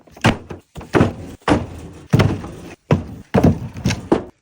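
Cut wood rounds are dropped into the back of a buggy one after another, eight or so heavy hollow thunks at an irregular pace, close and loud with quiet gaps between.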